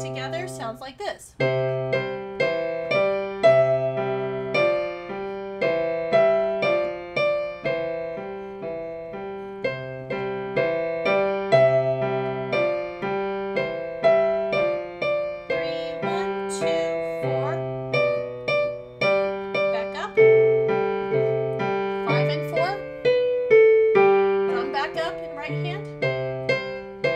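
Piano playing Au Clair de la Lune in the Suzuki Book 1 arrangement with both hands together, a simple melody over bass notes at a steady, moderate tempo, close and clear.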